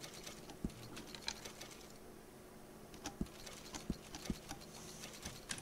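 Horse hooves clip-clop softly in Red Dead Redemption 2, a few scattered, uneven steps over faint background ambience with no voices.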